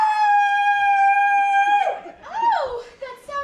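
A person's voice imitating a hound's howl, one long sustained wail that bends and wavers toward the end, close and loud with a brief laugh-like break after.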